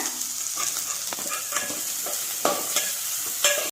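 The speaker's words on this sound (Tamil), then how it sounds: "வெங்காயம் நல்லா வதங்கினோடனே பீர்க்கங்காயும் சேர்த்து நல்லா வதக்குங்க" Chopped onion and ridge gourd sautéing in a pan for egg kulambu, a continuous close sizzle with scraping stirs of a spoon against the pan.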